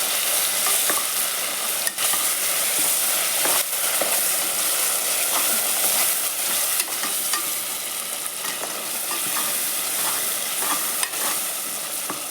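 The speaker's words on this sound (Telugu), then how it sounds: "కొద్దిగా వేసుకున్న తర్వాత బాగా కలుపుకోవాలి" Goat head and paya gravy is stirred in a hot pan after prepared masala goes in, a steady close sizzle of frying with repeated scraping strokes of the spoon, no talking.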